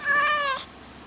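An old pet cat's recorded meow plays from a sound file, one clear, tonal, fairly loud meow about half a second long followed by quiet.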